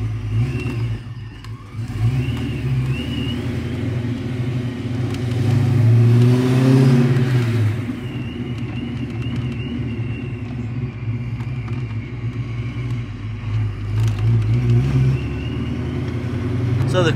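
A car fitted with a Ram MalWood hydraulic clutch setup pulls away and accelerates, its engine droning loudly up close with a swelling rev midway before settling to a steady hum.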